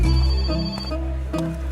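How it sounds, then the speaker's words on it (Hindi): Mobile phone ringtone playing a repeating melodic pattern, loud and close, with tones cycling through the short stretch and no talking over it. "तभी उसका मोबाइल बजा।"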